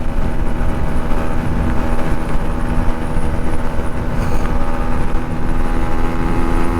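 Yamaha RX135 motorcycle engine running at a loud, steady drone with a dense buzzing rumble, close up and unbroken for several seconds, with no talk.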